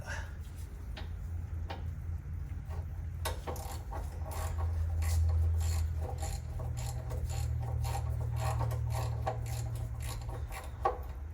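A 3/4 inch ratchet wrench clicks repeatedly while loosening the oil drain plug of a 1959 Chevy Impala with a 348 engine, sharp close ratcheting ticks in irregular bursts over a low hum.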